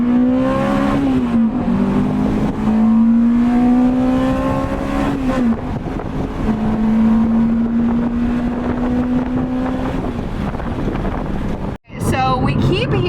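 Toyota Celica GT-S with a TRD exhaust accelerating hard on a highway, engine note rising and falling through gear changes, loud and close with wind buffeting, cutting off abruptly near the end.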